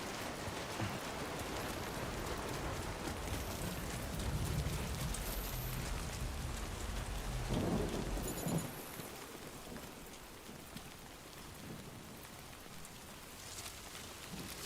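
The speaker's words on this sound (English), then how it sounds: "Alright, so I guess the rain is normal." Rain pours steadily in the video game Death Stranding 2, a continuous broad hiss with a low rumble underneath that eases slightly partway through.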